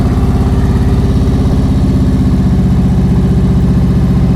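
Motorcycle engine held under steady loaded throttle through a slow-speed turn during advanced riding practice, a continuous close, even drone with a rhythmic low pulse and no talk.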